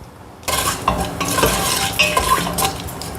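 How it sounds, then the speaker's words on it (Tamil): Cloves fry in hot oil with biryani spices such as bay leaf and cinnamon, giving a sudden loud sizzle, while a spoon scrapes and clinks against the pan in quick stirring strokes. "அது பொரியும் பாருங்கள் கிராம்பு"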